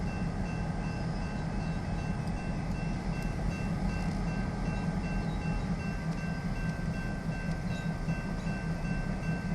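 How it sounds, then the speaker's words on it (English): Union Pacific switcher locomotive 711 works at a road crossing near an industrial plant. A steady, continuous low rumble carries faint sustained tones above it, with no voices. "Union Pacific 711 is our lead switcher here"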